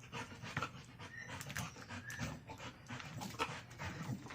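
A female dog pants quickly and rhythmically during exercise outdoors, close and fairly faint, with occasional soft whimpers and no talking.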